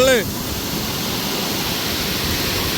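A waterfall in a dense, remote forest roars as a steady, loud wash of broadband rushing water, with a brief voice at the very start.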